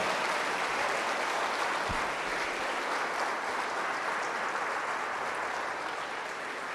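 A church congregation applauding during a Sunday morning service, a dense sustained wash of clapping heard at a moderate distance with no voices over it.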